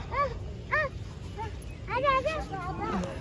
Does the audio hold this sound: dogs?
yes